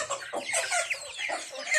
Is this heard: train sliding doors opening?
no